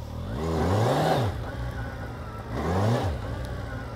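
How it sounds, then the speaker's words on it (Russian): Kawasaki Z1000SX motorcycle engine revving on a dirt surface, two rising and falling throttle blips at close range, the mid-pitched roar swelling and easing each time. "мотоцикл при отвороте акселератора становится очень дерзким и серьезным"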